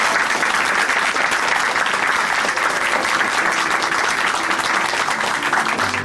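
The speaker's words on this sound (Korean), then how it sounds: "다시 한번 큰 박수 보내드릴게요" A church congregation in Chuncheon gives loud, sustained applause after a testimony, an even, dense roar of many hands clapping close by with no speech over it.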